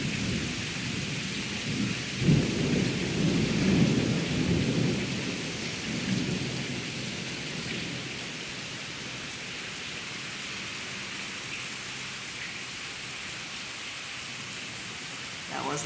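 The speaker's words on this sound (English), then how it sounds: "The storm has gotten worse. This is the rain. Oh my. This is the storm. Afternoon thunderstorms." Steady heavy rain pours during a Florida afternoon summer thunderstorm, with a low rolling rumble of thunder swelling early on before fading into a constant hiss of rainfall.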